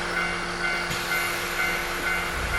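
A nostalgic Japanese train runs along the rails with a steady rumbling roar and faint humming tones, a continuous interior ride noise with small shifts, no speech.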